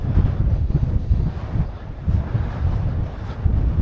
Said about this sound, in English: Because the wind's coming from